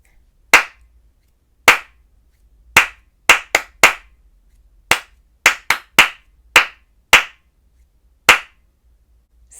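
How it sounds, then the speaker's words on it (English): Single pair of hands clapping a rhythm pattern in a music lesson, about a dozen sharp, close claps with uneven spacing in a quiet room. "just clap."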